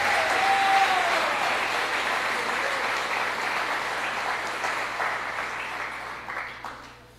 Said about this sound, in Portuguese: Dê um aplauso para Jesus mais uma vez.